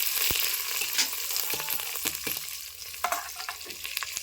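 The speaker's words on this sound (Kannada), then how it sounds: "ಸ್ವಲ್ಪ ಶೇಂಗಾ ಬೀಜ ಒಂದು ಸ್ವಲ್ಪ ಎಣ್ಣೆ ಒಳಗೆ ಫ್ರೈ ರೀ" Peanuts, onion and green chili fry in oil with a steady crackling sizzle, broken by a few sharp pops and light stirring scrapes close by.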